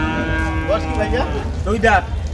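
A dairy cow moos a couple of times nearby at a cattle market in Dinajpur, drawn-out low calls over a steady background hum, with some talking mixed in.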